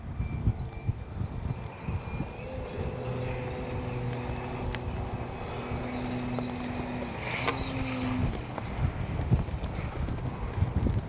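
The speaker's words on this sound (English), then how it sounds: "Very windy today, but that AS3X is helping to compensate with the wind." Strong, steady wind buffets the microphone at a radio-controlled airplane flying field, a broad continuous roar with gusts, while a small electric-powered aerobatic Pitts model whines faintly overhead.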